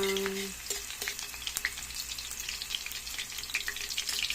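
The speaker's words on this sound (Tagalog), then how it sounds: "nainit na mantika. Lagay ko na yung bawang." Garlic dropped into hot oil in a pan for a Filipino sautéed tomato dish, an instant burst of steady crackling sizzle with sharp pops, close and continuous.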